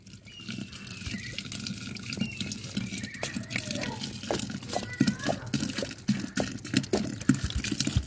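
Water splashing and trickling into a churn of lassi in a Punjabi village kitchen, with irregular drips and sloshes growing busier, fairly close and moderately quiet.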